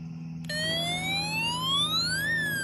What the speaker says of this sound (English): An alarm sounds,